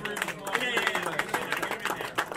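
An audience at the Crappy Print Awards, a 3D-printing awards ceremony at MRRF 2019, claps steadily for the winners, with sharp hand claps over a room murmur and voices talking throughout.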